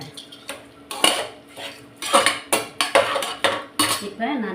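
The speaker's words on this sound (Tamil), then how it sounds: "இதை நான் மிக்ஸ் பண்ணி வச்சுக்கிறேன்" A spoon scrapes and clinks against a pot while rice is mixed for coconut milk rice, a run of close, sharp metallic knocks and stirring scrapes in an uneven rhythm with no talking.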